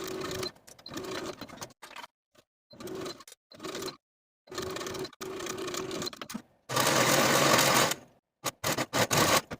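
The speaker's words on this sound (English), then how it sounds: "I'm going to be using my serger" A serger stitching the shoulder seams of a silk dress in short, close bursts of rapid mechanical whirring separated by pauses, with one longer, louder run.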